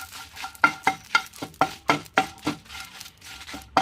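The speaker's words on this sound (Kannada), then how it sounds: "ಬ್ಯಾಡ್ಗೆ ಮೆಣಸು ಮತ್ತು ಬೆಳ್ಳುಳ್ಳಿ ಇದನ್ನು ಸ್ವಲ್ಪ ಫ್ರೈ ಮಾಡಬೇಕು" Byadgi chillies and garlic frying in a pan, heard as a run of sharp, evenly spaced scraping and stirring strokes over a soft sizzle, close and fairly loud, with no talking.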